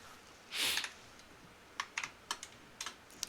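A burst of rustling, then a series of separate key taps on a computer keyboard, close and fairly quiet, spaced irregularly.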